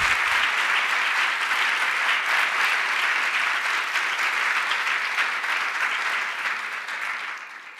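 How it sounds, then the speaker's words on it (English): Dense, steady applause from a large audience at a legal services center's 40th anniversary celebration, close and loud throughout and easing slightly toward the end, with no talking. "So let's clap again for all of the great people"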